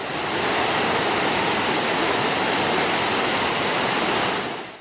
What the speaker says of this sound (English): recent monsoon rains ramped up the Little Colorado River and the volume of water over the falls